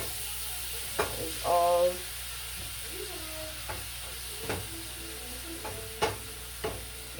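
Ground beef sautéing in a pan, a steady soft sizzle with intermittent scraping stirs and clacks of a utensil, while a person talks briefly over it.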